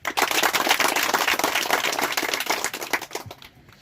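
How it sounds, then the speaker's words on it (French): Lively clapping from an audience at a community association's third anniversary celebration, uneven and sharp with audible individual claps, tapering off near the end. "Maintenant, nous applaudissons pour moi."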